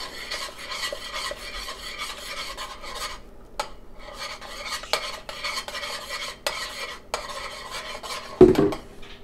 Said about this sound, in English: And then I stir in the remaining ingredients.